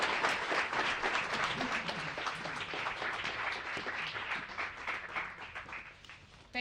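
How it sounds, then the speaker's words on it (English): Applause for panelists at a World Food Day celebration, a dense, sustained crowd clapping heard at moderate distance, steady throughout with a slight easing near the end. "another round of applause"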